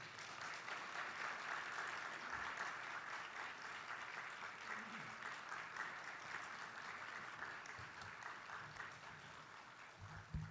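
Congregation at a Korean church new-year dawn revival service applauds to welcome a preacher, a steady wash of clapping from many hands that fills the room and lasts about ten seconds without fading.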